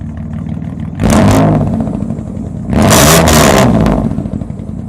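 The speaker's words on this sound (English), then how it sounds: "the one thing I did not do was give it a rev, so I'm going to do that" A 2000 Dodge Dakota Sport 4x4 with a twin-cat exhaust revs twice, each blip swelling loudly then settling back to a low, rumbling idle, heard up close with no talk.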